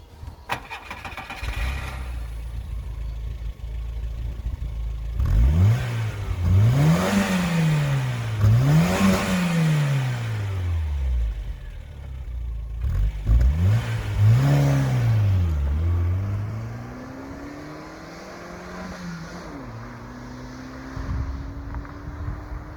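A 1994 Škoda Favorit 1.3i petrol engine revs hard several times in rising, falling sweeps, then eases back to a steadier idle-like drone, loud and close with no talking.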